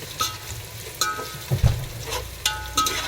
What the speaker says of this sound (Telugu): వేగిపోయినాయి కదా ఉల్లిపాయలు. ఎర్రగా వేగిపోయినాయి.